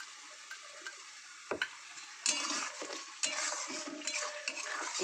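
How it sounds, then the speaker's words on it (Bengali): Tomato sauce goes into a pan of egg curry, with soft spoon clinks and scrapes followed by a rising sizzle that swells and steadies, moderately quiet and close, without speech. "তো চলো টমেটো সসটা আমি এর মধ্যে দিয়ে দেবো।"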